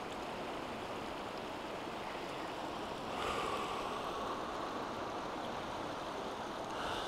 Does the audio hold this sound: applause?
no